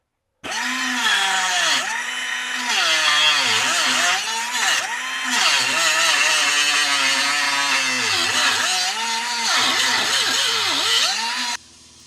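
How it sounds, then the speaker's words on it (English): Power tool polishing a small piece of metal during a Jeep TJ rear shock broken-bolt repair, a loud steady whirring grind with wavering pitch as the load changes, running continuously for about eleven seconds with no talk. "This little piece of metal that I'm polishing up right now"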